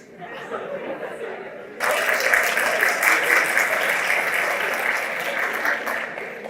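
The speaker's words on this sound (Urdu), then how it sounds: "اور یہ تالیاں کیوں بجا رہے ہیں؟" An audience bursts into loud, sustained applause that swells suddenly after a murmur of chatter and then carries on steadily, with voices mixed in underneath.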